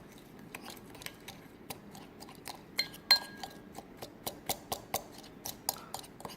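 Ingredients for honey baked chicken, including paprika, being stirred in a bowl, making faint, sparse clinks and taps of a utensil against the bowl in a quiet room.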